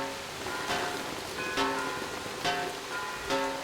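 Rainfall in the game Metro Exodus forms a constant wash of noise, punctuated by recurring tonal swells roughly every second, steady and close throughout with nobody talking.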